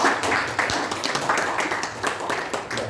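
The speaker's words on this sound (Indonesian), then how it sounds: "Tepuk tangan untuk Mbak" Applause at a film press conference: a room of people clapping steadily for a few seconds, dense and fairly close, with faint talk underneath.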